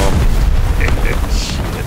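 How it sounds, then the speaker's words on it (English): A bomb explodes in the War Thunder tank game: a loud, deep boom with a rumbling tail fills the whole short moment. "That's a big old bomb."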